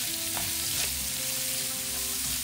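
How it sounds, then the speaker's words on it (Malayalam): Thinly sliced onions sautéing in oil left over from frying fish, for a Kerala fish molee, with a constant soft sizzle and faint stirring, alone without speech. "ഈ എണ്ണയിൽ തന്നെയാണ് സവോള വഴറ്റുന്നത്."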